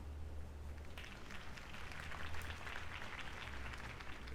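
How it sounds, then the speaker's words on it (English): Crowd applause follows a campaign speech in the Batman Telltale video game, rising after a quieter opening into a broad, steady clapping wash under a low rumbling hum, fairly faint overall. "If only Mr. Wayne, my campaign's largest backer, could have heard that applause"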